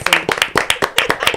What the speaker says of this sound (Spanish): Aplaudieron todos